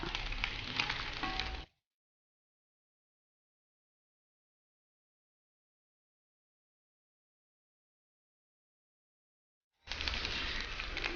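Cashew nuts fry in a pan, giving a steady, close sizzle that breaks off into silence and then returns just as strongly at the end.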